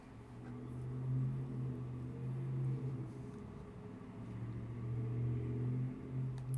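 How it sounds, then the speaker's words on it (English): Cars passing along a road outside, a low engine rumble and hum that swells and fades over several seconds as vehicles go by, fairly close and steady with no voices. "People are just really loud on their cars today."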